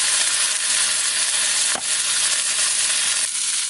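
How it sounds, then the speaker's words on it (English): Pork spareribs sizzle and brown in an oversized pan, a loud continuous fry hiss with a brief scrape partway through, no talking. "until they're all browned."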